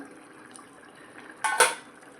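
A lid lifts off a pot of tomatoes cooked soft for a South Indian thakkali side dish, giving one brief metallic clatter with a short rattle in an otherwise quiet kitchen.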